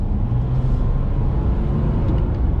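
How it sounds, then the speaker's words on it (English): A diesel engine in a 2020 Volkswagen Amarok Canyon pickup drones steadily while driving, a loud low rumble heard from inside the cabin. "This is a really, really good engine."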